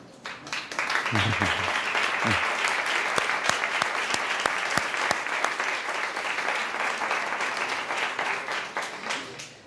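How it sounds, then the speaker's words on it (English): A large audience at a startup summit event for kids applauds steadily for several seconds, a dense sustained wash of clapping with brief voices near the start. "please, a big applause for the creators and the souls of this foundation"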